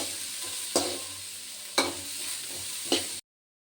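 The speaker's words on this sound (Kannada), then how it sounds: "ಕ್ಯಾರೆಟು, ಬೀನ್ಸು ಮತ್ತು ಕಾಲಿಫ್ಲವರು ಇದನ್ನೆಲ್ಲ ಫಸ್ಟೇ ಹಾಕ್ಕೊಂಡು ನೀಟಾಗಿ ಫ್ರೈ ಮಾಡ್ಕೊಂಡ್ಬಿಡ್ಬೇಕು" Carrots, beans and cauliflower frying in a pan for vegetable fried rice, a soft steady sizzle punctuated by three sharp spatula clanks, ending abruptly in silence.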